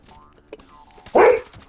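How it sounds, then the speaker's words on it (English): A dog in Fallout 76 gives one loud, close bark after a few soft yips and whimpers. "Shut the hell up, dog."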